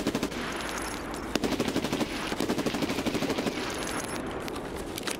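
Rapid automatic gunfire in the Escape from Tarkov SPT video game, a loud sustained burst of evenly spaced shots running almost continuously, with one sharper crack standing out.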